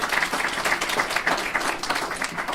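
An audience at a venture capital panel on robotics applauds, a dense, even wash of clapping from many hands, steady and moderately loud throughout.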